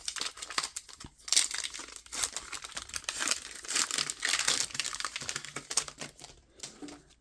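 Crinkly plastic foil of a Topps Archives trading card pack wrapper being torn open and crumpled, close and fairly loud in irregular bursts with no talking.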